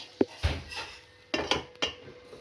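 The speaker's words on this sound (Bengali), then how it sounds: "এবারে আমের মধ্যে আমি গুড়টা মিশিয়ে দিচ্ছি" Jaggery being stirred into mango chutney, a handful of distinct spoon knocks and scrapes against a pot, spaced irregularly, close and fairly quiet with no talking.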